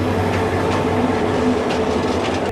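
Bijoy Express passenger train running on the rails, heard from inside a coach as a loud, steady rumble with low droning hum and faint rhythmic clatter, no voices.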